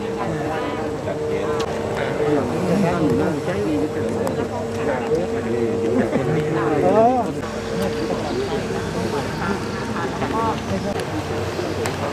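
A flood-relief water pump engine drones steadily outdoors while draining floodwater from a community, with people talking throughout over the continuous mechanical hum.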